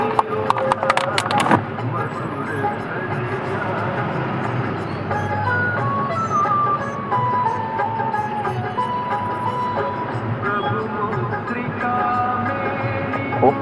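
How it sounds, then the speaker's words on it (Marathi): Heavy road traffic with continuous engine rumble and passing vehicles, a brief cluster of horn or clatter at the start, and someone talking over the steady noise. "खूप ट्रॅफिक आहे भावांना आज पण"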